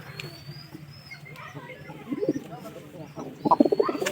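Pigeons coo softly nearby in a pigeon-keeping setting, their low throaty calls growing louder toward the end over a faint background of other birds.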